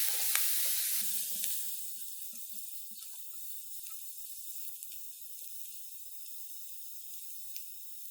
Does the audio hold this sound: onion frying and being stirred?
yes